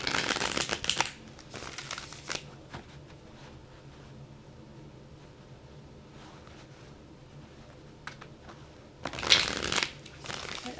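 A Rider tarot card deck is shuffled in two quick riffling bursts, one at the start and one near the end, with quiet room tone between.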